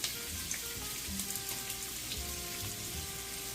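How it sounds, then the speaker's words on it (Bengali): Chopped garlic frying in oil makes a continuous, fine crackling sizzle like light rain, steady and moderately close, with faint tonal hum underneath. "রসুন কুচিটাকে ঠিক এক মিনিট আমি ভেজে নেব"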